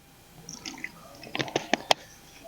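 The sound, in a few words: water being poured into a jar for a varroa mite test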